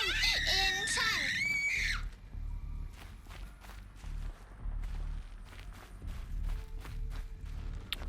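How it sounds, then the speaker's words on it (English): A shrill, wavering scream rings out in the video game Horizon Zero Dawn for about two seconds, loud and close. Quieter footsteps and faint sounds follow. "Pretty sure that scream's also in Dead Space."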